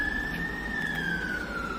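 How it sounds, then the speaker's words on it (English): A police siren wails steadily at a distance, its single sustained tone drifting slowly downward above a rumbling background. "Sirens."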